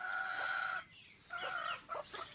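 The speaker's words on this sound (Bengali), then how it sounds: "আর দেখুন এই সাইডে কিন্তু আর একটা মোরগ আছে" Backyard desi chickens with a red rooster cluck and call close by in short bursts separated by brief pauses, with no talking over them.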